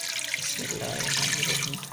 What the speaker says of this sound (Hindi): इसमें 2 गिलास पानी ऐड करेंगे